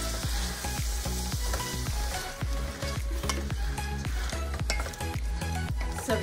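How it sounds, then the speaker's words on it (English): Garlic shrimp sizzling in a pan while being stirred, a constant frying hiss with a regular pattern of spoon scrapes and clinks against the pan, with no talking. "Give it a good stir."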